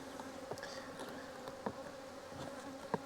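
A dense, continuous buzzing of many honey bees in a hive split fills the space, with occasional louder individual insects passing close by.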